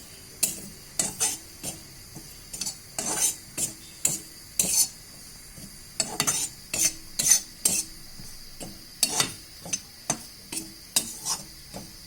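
A spoon scrapes and stirs a wheat biscuit mixture roasting in oil in a pan, giving repeated sharp scraping strokes in an uneven rhythm over a faint sizzle, close up with no talking.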